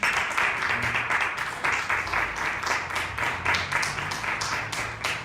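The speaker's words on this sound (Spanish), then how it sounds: "Den un aplauso al Señor." Church congregation applauding the Lord during a sermon, a steady burst of many hands clapping in a dense, even rhythm that continues throughout at moderate loudness.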